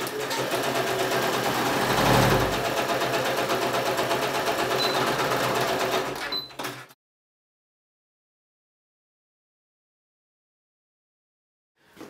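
A sewing machine stitches a trouser side seam with a steady, rapid mechanical whirr for several seconds, then stops, leaving near silence before a faint sound at the very end.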